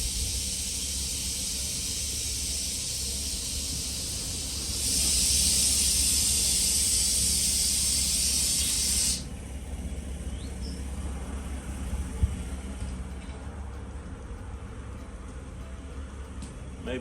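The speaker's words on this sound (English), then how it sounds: "That's the compressor building up pressure." Shop air compressor builds pressure during a 1966 Chevy C10 restoration, giving a steady, moderately loud hiss and hum. A brighter burst of air rises partway through and then drops away.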